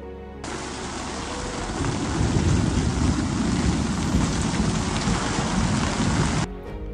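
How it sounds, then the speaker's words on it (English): Heavy rain pouring at a camp in Kruger National Park, a dense steady roar of drops that starts abruptly, swells, holds loud and close, then cuts off near the end. "we weren't quite ready for the rain."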